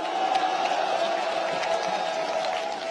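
A large outdoor candlelight rally crowd applauds a national media labor union chairman, a dense, steady wash of clapping and crowd noise that holds loud for the whole three seconds.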